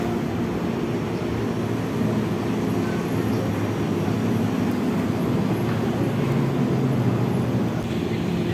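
Airport rail link train on the Soekarno-Hatta Airport line, a steady loud rumble of the train running, continuous and close throughout without clear speech.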